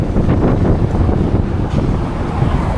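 Strong wind buffets the microphone during a motorcycle ride, a loud continuous rumbling roar with gusty fluctuations, no voices over it.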